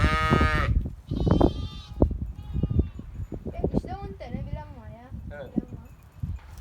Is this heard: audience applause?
no